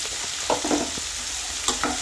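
Sliced onions and green chillies fry in a pan, a steady close sizzle broken by a few quick scraping and stirring knocks, with no one speaking.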